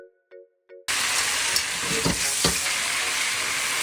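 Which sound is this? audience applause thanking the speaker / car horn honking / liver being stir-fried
liver being stir-fried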